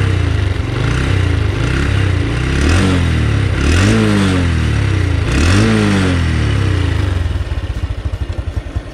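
A first-generation Honda Blade 110 motorcycle engine idles close by and is revved three times, each blip rising and falling in pitch before settling back to a rough idle.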